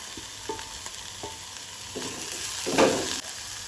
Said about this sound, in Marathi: कांदो तळसून जालो तशें तातूंत हांव टोमॅटो घालता